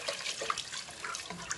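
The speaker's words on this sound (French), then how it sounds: "Je vais mettre mon verre d'eau." A glass of water is poured into a pot of couscous cooking with ketchup, giving a short, faint splashing trickle close by with no talk over it.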